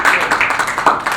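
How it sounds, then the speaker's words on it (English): Short round of audience applause at a forum, quick overlapping claps with a voice talking over them. "Extra round of applause for Russell Palmer."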